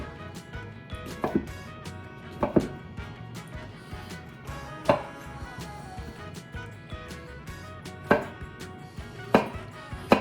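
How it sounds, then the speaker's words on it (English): A knife chops zucchini on a cutting board in a home kitchen, sharp irregular thuds spaced a second or two apart, close and clear over quiet background. "Slice one way and then slice the other."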